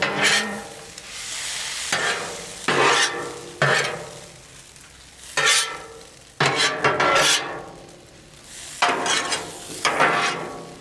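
Yakisoba noodles stir-fried on a Blackstone griddle: repeated scraping and tossing strokes of a spatula over a steady sizzle, coming in bursts every second or two, close and fairly loud with no talk.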